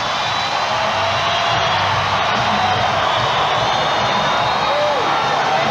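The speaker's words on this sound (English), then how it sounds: "Listen to this crowd." Basketball arena crowd roaring during a 1994 Lakers at Clippers NBA game, a broad, continuous wash of cheering and noise that stays loud and steady throughout.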